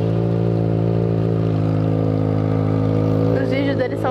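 A Yamaha XJ6 motorcycle runs with a steady, loud engine hum that rises into a brief rev near the end, with people talking over it.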